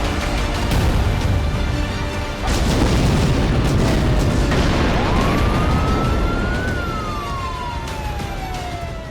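Loud, rumbling blasts and crackling roar from a fire at an oil depot in Ukraine during the Russia–Ukraine conflict, with a siren wailing and rising through the latter half, continuous and close.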